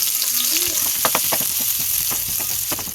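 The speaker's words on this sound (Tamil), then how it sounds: "வெங்காயத்தை நல்லா வதக்கிப்போம்" Onions frying in hot oil in a pan, a steady loud sizzle with crackling pops and scraping stirs throughout.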